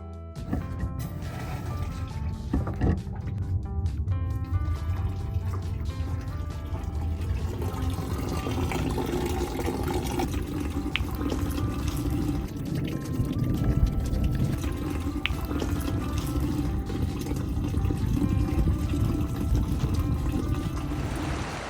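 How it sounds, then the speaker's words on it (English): Water pours steadily into an RV fresh water tank, a continuous rushing, gurgling fill that holds at an even level for over twenty seconds with no talking. "now I've filled the tank back up with fresh water"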